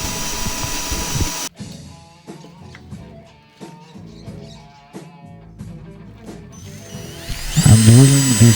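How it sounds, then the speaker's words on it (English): A power drill bores a 20 mm hole into a wooden piece, cutting in from both sides: a whirring motor with bursts of grinding and ratcheting clicks, pausing briefly, then rising into a loud, strained whine at the end. "I'm drilling this 20 millimeters hole from both sides to avoid tear outs."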